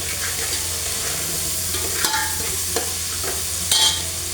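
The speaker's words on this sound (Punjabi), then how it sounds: "ਹਲਕਾ ਜਿਹਾ ਆਪਾਂ ਪਿਆਜ਼ ਭੁੰਨ ਲਿਆ ਵਾ" Onions frying in a pan and being stirred, with a steady close sizzle throughout and the scrape of a spoon at intervals, no voices.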